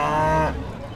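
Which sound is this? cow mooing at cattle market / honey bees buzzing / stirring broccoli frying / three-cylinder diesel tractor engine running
cow mooing at cattle market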